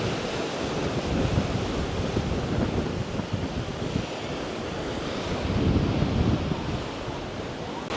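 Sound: strong wind by the sea

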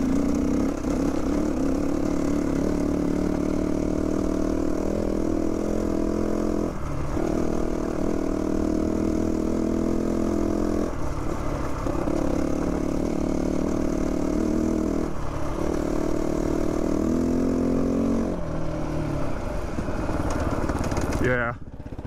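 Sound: GPX Moto FSE450R motorcycle engine idling

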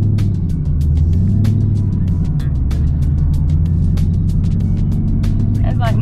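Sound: Camaro ZL1 or Z28 car driving off

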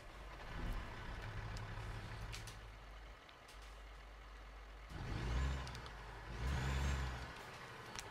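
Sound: truck engine starting in video game

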